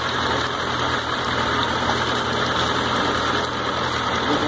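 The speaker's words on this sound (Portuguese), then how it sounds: "O motor tá quente, tá, vai girando e vai jogando o produto fora." Warm Suzuki GSX 650 motorcycle engine idling steadily during a coolant flush, a loud, even mid-range rumble with constant vibration and no break throughout.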